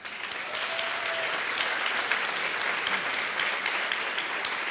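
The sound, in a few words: audience applause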